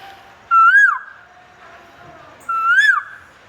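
A person whistles an imitation of a cuckoo (koel) call: two clear, rising-and-falling whistled calls about two seconds apart, close and loud over a quiet background.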